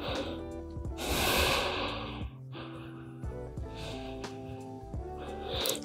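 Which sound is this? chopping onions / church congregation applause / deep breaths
deep breaths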